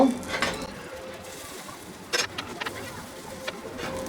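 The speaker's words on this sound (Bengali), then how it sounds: "এখন এই পাশটা মিনিট তিনেক দুই তিনেক ভাজলেই হবে" Vegetable bread frying in oil in a pan, a soft steady sizzle with a few light clinks of utensils against the pan, heard close and fairly quiet without talk.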